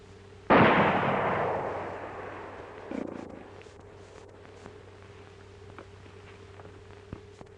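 A single loud gunshot from a 1942 western film cracks out and rings with a long decaying echo, followed a few seconds later by a softer second report and faint background noise.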